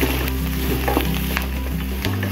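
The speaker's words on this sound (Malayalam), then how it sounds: "നന്നായി വഴറ്റി കൊടുക്കുക." Beef fry masala sautés in a hot pan, a loud, steady close-up sizzle with occasional stirring scrapes and a low hum underneath, cutting off sharply near the end.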